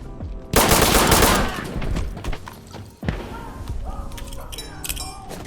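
Semi-automatic M16 rifle fire in a video game, with loud repeated shots in a dense burst followed by scattered single cracks and thuds, up close.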